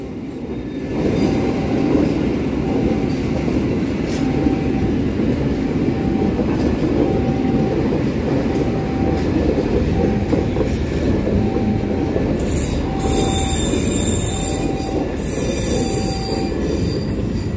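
The Argo Parahyangan passenger train, a Turangga trainset, rolls steadily past close by in Indonesia, with a constant heavy rumble of wheels on rails and high squealing that rises near the end.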